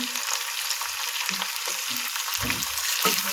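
Okra fries in a tempering of crushed garlic and cumin for masala bhindi, a dense, even sizzle with low stirring thuds and scrapes, close up and without speech.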